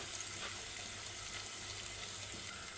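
Ground masala paste added to hot oil with fried onions while making mutton rassa, a faint steady sizzle and hiss throughout, with no talk.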